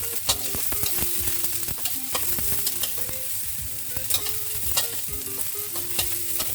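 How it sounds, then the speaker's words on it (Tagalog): Onion and garlic sizzling in hot oil in a wok while a spatula scrapes and clatters against the metal in quick repeated strokes, close and steady, no talking. "In the same wok, maglagay tayo ulit ng oil. Natin yung onion. And garlic."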